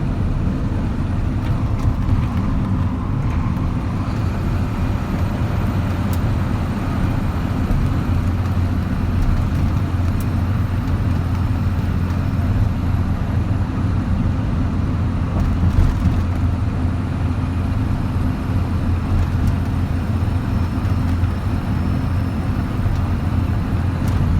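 A 2013 Kenworth T370 wrecker truck with a 350 hp Paccar PX9 diesel engine drives steadily, producing a continuous low engine drone and road rumble from inside the cab.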